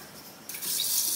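A little water is poured in from the top of a container. After half a second of faint hiss, a close, steady splashing stream begins and grows slightly louder.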